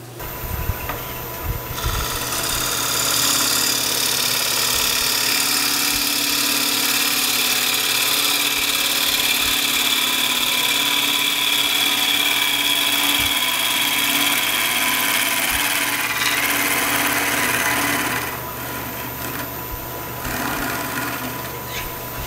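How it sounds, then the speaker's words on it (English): Wood lathe spinning a square cottonwood burl bowl while a 1/4 inch bowl gouge cuts it, a steady motor hum with continuous scraping hiss that eases off near the end. "Now I'm going to take a 1/4 inch bowl gouge with a traditional grind or a straight across grind and work on my bowl."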